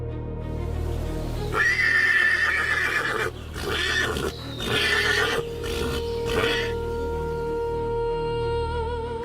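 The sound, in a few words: stallions fighting and neighing by a pond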